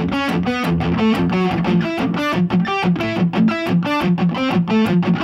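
Distorted PRS electric guitar plays a fast metalcore rhythm phrase, tight palm-muted pedal notes interleaved with higher notes in a rapid driving pattern, loud and upfront with no talking.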